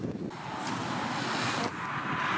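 Wind blows steadily across open water on a fishing outing from a boat among other small boats, a continuous broadband rush of gusts buffeting close to the microphone with no speech.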